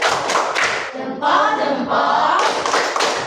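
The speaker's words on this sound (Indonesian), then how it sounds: "tepuk salut dulu lagi si perdana. Tepuk salut." A classroom of students does a rhythmic salute clap for a classmate, a patterned series of claps and taps, with children's voices chanting in the middle.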